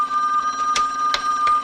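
A telephone bell rings in a late-1970s film scene, three short bursts spaced about a third of a second apart over a faint steady tone, with no talking.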